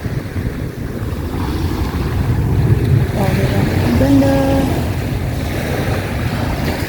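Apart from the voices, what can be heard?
sea waves splashing at the seaside at dawn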